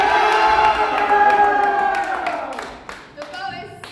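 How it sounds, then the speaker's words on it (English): An audience at a school town meeting production claps, cheers and whoops to vote for a candidate. Loud voices rise together, then fade into scattered claps and calls. "Everyone who wants this candidate to win, please applaud."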